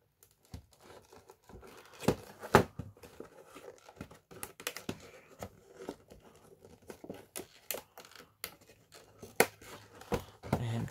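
Plastic shrink wrap on a Monster Hunter Stories 2: Wings of Ruin Nintendo Switch game box is cut and peeled in quiet, irregular snips and crinkles, close up, with scattered sharp ticks and tears.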